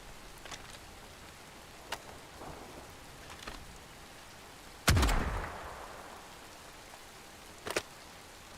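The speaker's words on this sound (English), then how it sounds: "Her shotgun is so much cooler now." A shotgun blast in the action game Bright Memory, one loud booming shot with a rolling decaying tail, amid sparse sharper clicks and a steady rain-like hiss.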